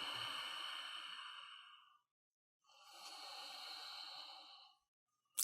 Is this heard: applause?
no